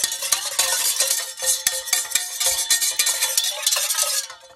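A spoon clinks and scrapes quickly against the inside of a cup while stirring water to dissolve a crafting ingredient. The dense, bright tapping runs close and continuous, then trails off at the end.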